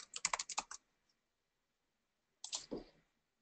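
A template name is typed on a computer keyboard: a quick run of close, crisp key clicks, a pause of silence, then a second short burst of typing.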